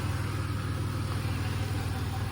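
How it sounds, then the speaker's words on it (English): A Chevy Impala engine idles after a spark plug change, with a steady, low rumbling drone and an even pulsing throb, close and continuous throughout. "The engine is running at its best performance now compared to before."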